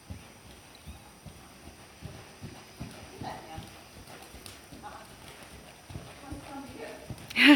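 A horse canters around an arena, its hoofbeats a soft, regular three-beat thud repeating throughout, with a person talking over them.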